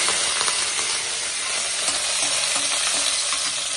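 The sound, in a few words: curry leaves frying in hot oil in a kadai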